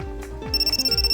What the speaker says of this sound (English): Then my phone suddenly rang.